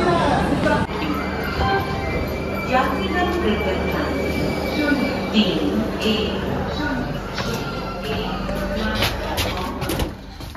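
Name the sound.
Guwahati to Sealdah special train, wheels squealing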